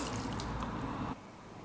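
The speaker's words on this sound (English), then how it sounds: "we're going to pour half cup water" Half a cup of water is poured into a stew pot of chicken hearts, gizzards and carrots: a close, steady splashing rush for about a second that then cuts off to quiet.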